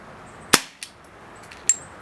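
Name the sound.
Umarex Beretta M92 FS CO2 pellet pistol shots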